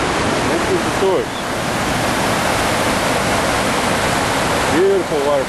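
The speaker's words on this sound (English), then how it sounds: "Beautiful waterfall." A waterfall roars as a steady, loud, broadband rush that fills the scene; a brief voice-like sound rises over it near the start and again near the end.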